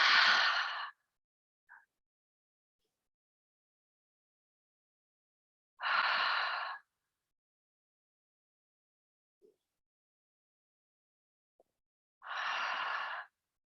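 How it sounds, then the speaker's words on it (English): Three deliberate breaths during a Pilates and yoga fusion class, each a loud, close, breathy rush about a second long, spaced roughly six seconds apart with near silence in between. "Inhale. Exhale."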